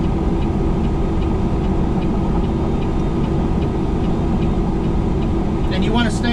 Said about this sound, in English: We got the engine brake on full.